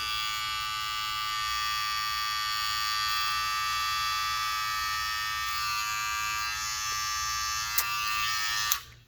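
A Kemei 1931 hair clipper fitted with an Andis GTX-EXO blade runs with a steady, close, high-pitched electric buzz and mains-like hum, ending with a couple of sharp clicks as it is handled.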